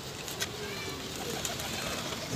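Pigeons cooing at a breeding club, soft repeated coos under steady broadband background noise, with a few brief sharper calls.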